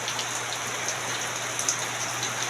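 Steady rain falls outside a boarding house, a continuous soft hiss with scattered brighter drops and splashes, moderately close, with no voices.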